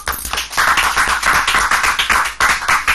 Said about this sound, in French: Allegra, sous vos applaudissements